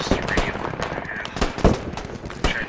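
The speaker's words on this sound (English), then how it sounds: "I just sprayed my whole mag in his general direction." Automatic weapon fire from a machine gun in the military shooter game Squad, several sharp bursts and cracks scattered through the clip, some near and loud, others more distant, mixed with game noise and faint voices.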